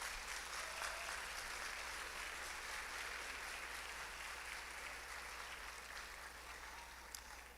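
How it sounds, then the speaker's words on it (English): At a graduation award ceremony, a large audience applauds parents and guardians with a soft, distant, even wash of clapping that fades slightly near the end. "Let's give them a round of applause."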